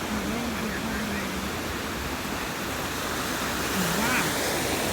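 Ocean waves breaking on the beach at Ocean Beach, San Diego, California, a steady broadband wash of surf with a rising swell near the end and faint voice-like tones underneath.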